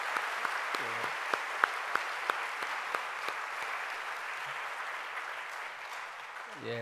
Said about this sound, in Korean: 수고한 분들 박수 한번 쳐주세요.